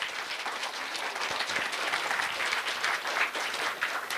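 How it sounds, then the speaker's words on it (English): An audience claps steadily at a school DARE graduation ceremony, a dense, sustained round of applause from a sizable crowd that carries on evenly for several seconds without speech. "Big round of applause for Miss Guerin's class."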